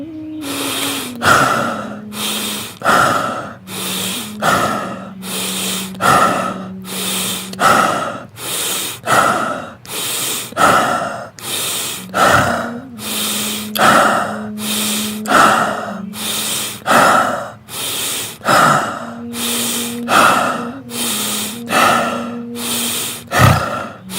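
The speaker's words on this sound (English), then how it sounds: "stomach breathing, and we begin." Deep stomach breathing during a guided morning meditation session: slow, loud, close inhales and exhales repeat rhythmically, about twenty breaths in steady succession.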